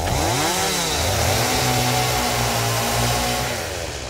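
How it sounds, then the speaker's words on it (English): A chainsaw from the video game Satisfactory revs up and then holds a loud, buzzing, steady whine that fades slightly at the end, heard alone without talk. "oops, I grabbed the chainsaw, I didn't put the chainsaw in my hand"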